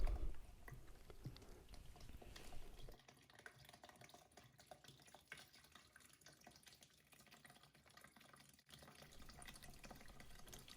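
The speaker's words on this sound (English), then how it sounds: "So drain that water out first." Water draining out of a plumbing supply line into a bucket after the house supply is shut off, a steady close trickle and splash that drops to a quieter, continuous flow partway through, with no talking.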